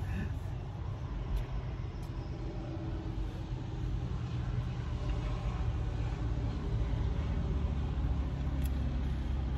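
From the open back of a moving truck, a continuous low road rumble and engine drone carries along with wind noise, steady and fairly loud throughout, with no clear speech.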